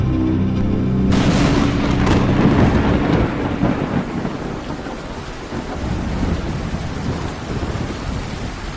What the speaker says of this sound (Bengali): আকাশ ভেঙে প্রবল বৃষ্টি শুরু হলো